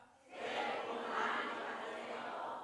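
A church congregation at a Friday night service shouts together in unison, a loud swelling roar of many voices that rises quickly and holds steady in a large hall.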